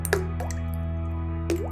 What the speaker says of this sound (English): a water drop is quiet but with a low frequency.